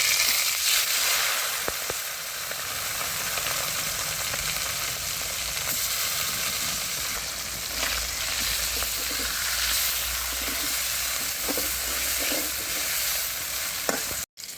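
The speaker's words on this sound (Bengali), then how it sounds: "বাইম মাছ ভাজার জন্য কড়াইতে তেল দিয়ে নিলাম।" Steady, loud sizzling of baim (eel) fish frying in hot oil in a wok, a dense crackling hiss that holds throughout with occasional sharper pops and spatters.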